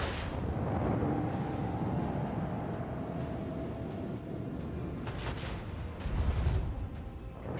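A plasma torpedo detonates in the space combat of Warhammer 40,000: Rogue Trader, a loud, sustained rumbling blast with crackling bursts that swells again near the end.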